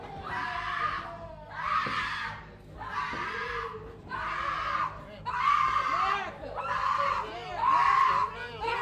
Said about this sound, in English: they broke down and started screaming in court, even hiding under the table